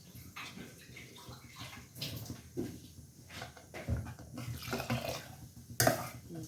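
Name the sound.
pouring water into a pot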